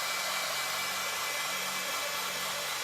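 A hair dryer blows steadily and loudly at close range to dry black paint, a continuous broadband whoosh with a low motor hum and no pauses.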